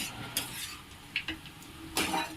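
Carrot halwa being stirred in a pan, a few soft scrapes and clinks of the spoon against metal over a faint sizzle, close and quiet with no talk.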